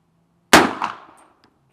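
A suppressed 300 Blackout AR-15 with a Sig suppressor fires its final subsonic round, a single sharp muffled crack with a quick metallic clack of the bolt locking open, ringing briefly before fading.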